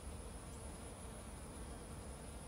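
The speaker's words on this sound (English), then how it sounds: "here's like a couple bees working the same flowers right here" Honey bees working pink and white crepe myrtle flowers outdoors, giving a faint, steady buzzing drone throughout.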